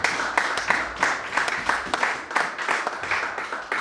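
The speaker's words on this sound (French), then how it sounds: "Acclamons pour elle." A church congregation applauds together, a steady mass of rhythmic clapping that holds at a constant level throughout.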